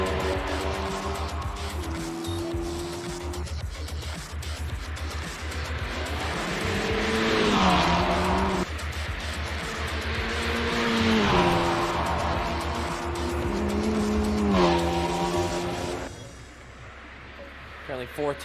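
Front-wheel-drive Cupra TCR touring car lapping Castle Combe circuit, its engine rising and falling through repeated gear changes at steady loudness, with commentary talking over it throughout.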